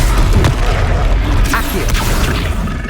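An Expelliarmus spell in Hogwarts Legacy combat lands as a loud, dense booming burst with rumbling crashes layered over continuous battle noise.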